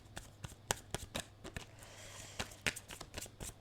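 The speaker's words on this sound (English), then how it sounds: "we shuffled enough" Tarot cards being shuffled by hand, a run of crisp, uneven riffles and flicks over about four seconds, quiet and close, with no voices.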